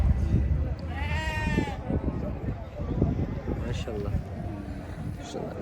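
Goats and young kids bleat in short wavering cries amid a noisy outdoor crowd at a livestock market, with people talking throughout and more bleats scattered near and far.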